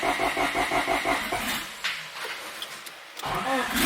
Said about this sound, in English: First start.